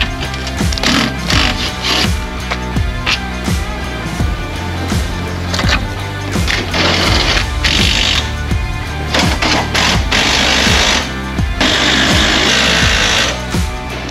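Jack legs on a Norweld Elite ute canopy being wound up to lift it off the tray: a loud, steady mechanical whirring grind with rhythmic clicking, running almost continuously in surging stretches, with no talk.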